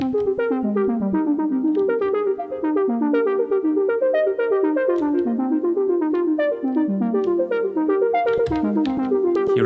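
A low-pitched arpeggiator patch on an Elektron Digitone synthesizer plays a steady, rapid stream of repeating notes, loud and continuous with no voices.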